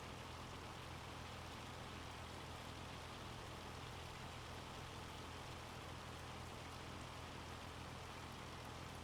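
Heavy rain or hail pouring steadily in Farming Simulator, a dense, even broadband hiss filling the whole stretch without breaks or voices.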